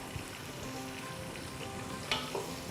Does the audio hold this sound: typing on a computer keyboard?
no